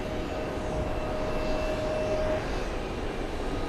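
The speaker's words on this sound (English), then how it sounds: "Nigerian military Gulf Stream taxiing across the 24s" Nigerian military Gulfstream business jet taxiing across the runway at an airport, a steady distant jet engine whine with a thin high tone over a broad rumble, no voices.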